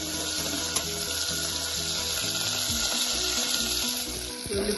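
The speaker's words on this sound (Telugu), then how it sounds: "ఆయిల్ హీట్ అయిన తర్వాత ఆనియన్స్, పచ్చిమిరపకాయలు, కరివేపాకు" Onions, green chilies and curry leaves fry in hot oil, a loud continuous close sizzle and crackle holding steady throughout.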